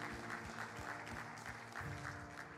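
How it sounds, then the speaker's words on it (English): Steady applause from a crowd, a continuous wash of clapping heard from a distance at low level. "Let's give him a big round of applause to give him some encouragement here."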